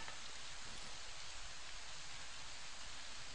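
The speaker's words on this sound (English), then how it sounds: "Of course, now this time it decides it wants to rain." Steady rain hisses as a continuous, even wash of noise in the video game Fallout New Vegas, faint and unbroken with no voices.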